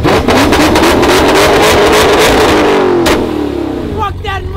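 Flame-tuned Dodge Hellcat Redeye engine revving hard and very loud, a sustained roaring rev that rises then cuts off with crackles near the end, with people talking over it.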